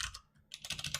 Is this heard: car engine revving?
no